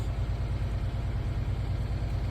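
A school bus diesel engine held at a steady 1000 RPM during a pre-trip air brake check, producing a constant low throbbing drone with an even pulse and no change in pitch.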